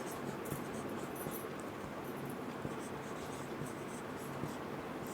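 Steady scratchy writing on a board, a continuous close rasp with faint taps, no talk over it.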